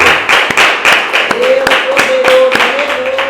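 A church congregation clapping in praise during a worship service, quick rhythmic hand claps in a steady beat, loud and close, with a sustained sung or held voice running underneath.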